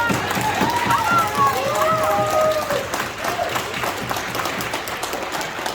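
Applause fills a public board meeting, a continuous, moderately loud wash of clapping from the room with faint voices murmuring beneath it, easing slightly toward the end.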